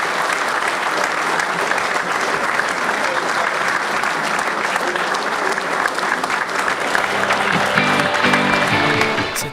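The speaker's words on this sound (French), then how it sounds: "Je vous propose d'applaudir Julien Marion." A gala audience applauds steadily for a retiring fire brigade director, dense clapping from a large crowd lasting the whole stretch at a fairly even level, with faint voices and music-like tones creeping in near the end.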